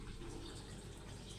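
Tap water runs in a steady, soft gush as polao rice is rinsed for biryani in a home kitchen, continuous and unbroken throughout with no one talking.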